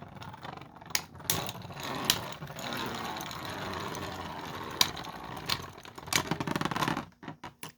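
Two 3D-printed beyblades, V8 and V6, whir and rattle as they spin in a stadium, with sharp collision clicks and a buzzing grind that stops in scattered ticks.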